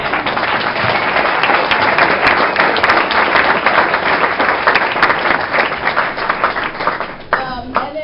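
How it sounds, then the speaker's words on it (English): A party audience breaks into loud, dense applause, steady clapping close by that holds for several seconds before easing off as a voice begins near the end. "how about applause for that?"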